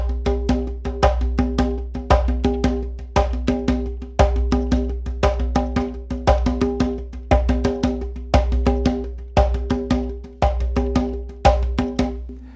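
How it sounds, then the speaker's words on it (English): A hand-played conga pattern mixes resonant open tones and sharp slaps in a steady, repeating rhythm, up close with no talking, built from ceremonial polyrhythms. "So the conga has open tones and slap tones,"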